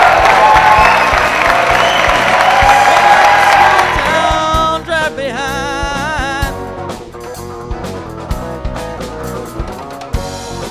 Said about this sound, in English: Please, a warm round of applause for my best friends from high school.